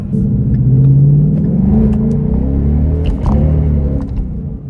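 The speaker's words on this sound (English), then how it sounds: "that was a little hit from first to second. I was spinning most of it" A '66 car accelerates hard and loud with its engine rumbling as it revs and climbs. A gear change from first to second breaks the rise partway through while the tires spin, and no voices are heard.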